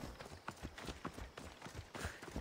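Rhythmic hoofbeats of a galloping horse in the Assassin's Creed Odyssey video game, steady and fairly close, with faint game ambience underneath.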